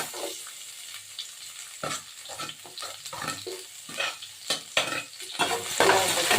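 Onions frying in oil after mustard seeds and cumin, with close stirring scrapes and bursts of sizzle that rise and fall in an uneven rhythm.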